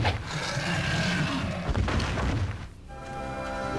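Starburst spell striking in Might and Magic 6, with monsters crashing heavily to the ground: a dense, loud rumble of booming impacts and crashes lasting a few seconds, no talk.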